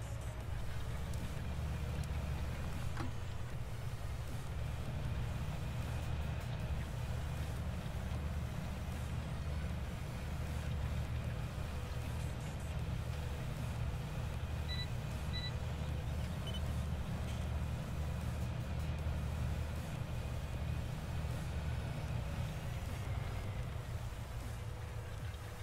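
Steady tractor engine drone from Farming Simulator 17, a low, constant rumble holding at even volume throughout, with faint wind-like hiss and no speech.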